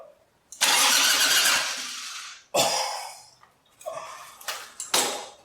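A 1985 Harley Davidson Ironhead Sportster engine, unstarted for years, cranks and tries to start in several loud, rough bursts: one long surge, then shorter sputtering attempts close by.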